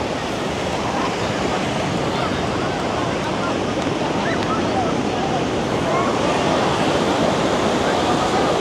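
Ocean surf at a crowded Kuta Beach in Bali at sunset washes in as a constant loud roar of breaking waves, with wind rumble and faint background voices mixed in.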